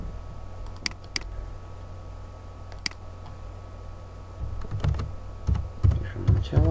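Typing on a computer keyboard, scattered key clicks at first, then denser, louder bursts of tapping toward the end, close and alone with no talking.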